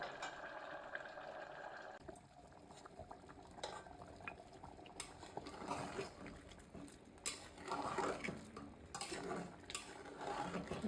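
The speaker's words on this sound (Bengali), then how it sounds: "এই যে কষাচ্ছি সব মশলা দিয়ে আরও কষাবো" Beef head meat being stir-fried with spices in a pot, with irregular scraping and clattering of a spoon against the metal over a low bubbling sizzle, close and uneven.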